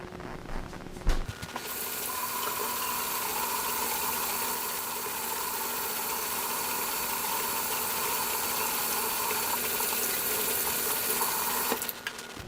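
Tap water runs steadily over hands at a kitchen sink during cooking prep, a continuous broadband hiss lasting about ten seconds with a soft thump at the start and stop.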